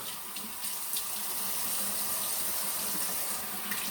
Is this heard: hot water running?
yes